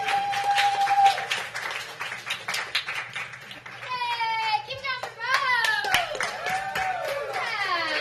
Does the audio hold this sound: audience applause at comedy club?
yes